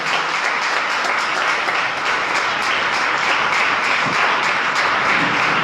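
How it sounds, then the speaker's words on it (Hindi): Loud, sustained applause from a congregation during a Friday church service, dense steady clapping filling the room without a break and with no talk over it. "कौन जोरदार तालियां देंगे?"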